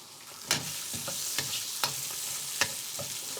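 Roughly chopped onion fries in oil in a wok for beef lo mein, a steady close sizzle broken by several sharp clacks of the stirring utensil against the pan.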